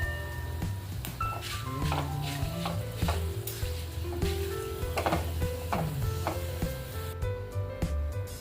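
Whole spices, among them four or five star anise pods, sautéed in oil for goda masala, giving a steady close sizzle with repeated stirring scrapes and knocks of a spoon against the pan throughout.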